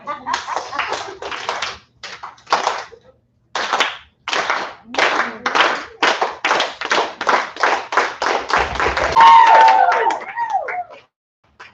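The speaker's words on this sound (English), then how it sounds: "we need to slow clap just because we need to slow clap" An arts festival audience does a slow clap: separate sharp group claps that start spaced apart, then quicken steadily into a run of rapid claps before stopping, with brief cheering near the end.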